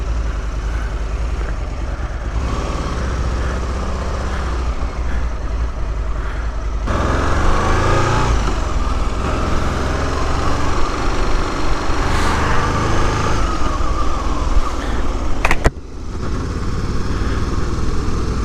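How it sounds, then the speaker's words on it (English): 2004 Aprilia Futura RST 1000 motorcycle ridden on the road, its engine droning steadily with a low rumble that swells louder as the rider accelerates, wind noise mixed in, with a brief sharp dip near the end. "here goes our inaugural ride on the 2004 Aprilia Futura RST"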